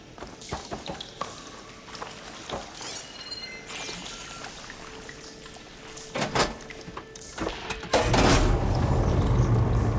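Water flow is switched on in pipes in Horizon Forbidden West: metallic clanks and mechanical knocks, then a loud steady rush of water surging through the pipes near the end.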